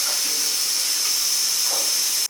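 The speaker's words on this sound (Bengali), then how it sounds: "তো আলুটা আমি কুকারে বসিয়ে দিলাম, 4-5টা সিটি দিয়ে নেব।" A pressure cooker boiling potatoes lets out a loud, steady rush of hissing steam at close range, holding at full strength before cutting off abruptly.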